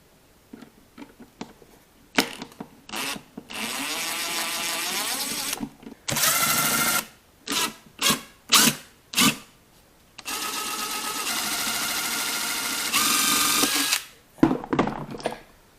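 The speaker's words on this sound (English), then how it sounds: "unscrew these. And once you unscrew them, this will come apart." A power tool unscrews screws from the air filter housing of a Mercedes C300, starting with short taps and then running in steady whirring bursts of a few seconds each, with brief pulses between the longer runs.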